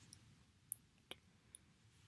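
Three sharp computer mouse clicks land about half a second apart in a quiet room, each a crisp, isolated tick against faint background hum.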